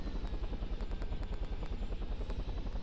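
Rapid, steady thumping rotor beats of a video game helicopter fill the clip, loud and continuous with a mechanical whine above.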